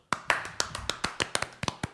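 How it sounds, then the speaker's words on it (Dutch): Roughly a dozen sharp, close hand claps in an uneven rhythm, as a person applauds during a Dutch theme-park podcast; the claps are crisp and stand alone with no talk over them. "Mag ik trouwens even een, ehm, een applaus?"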